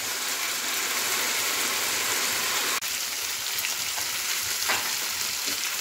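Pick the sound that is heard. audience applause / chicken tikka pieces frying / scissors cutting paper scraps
chicken tikka pieces frying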